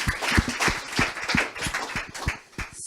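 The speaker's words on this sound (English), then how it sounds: "A round of applause." Applause from an audience at an evening session of a sanitation conference meeting in Stockholm, a few seconds of fairly thin, uneven clapping with distinct individual claps, fading toward the end.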